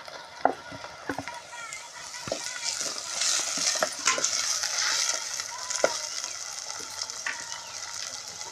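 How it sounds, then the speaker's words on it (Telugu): Chopped onion sizzles and fries in a pan for a beerakaya (ridge gourd) curry as tomato goes in, with steady frying hiss and several sharp spoon scrapes and clinks against the pan. "ఉల్లిపాయ వేగిందండి, టమాటా వేద్దాం"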